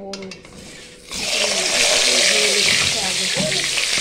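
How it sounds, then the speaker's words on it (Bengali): A large fish head frying in hot oil, a loud, steady sizzle that bursts in after a quieter opening second, while a voice talks over it. "প্রথমে আমি মাছের মাথাটাকে ভেজে দিচ্ছি"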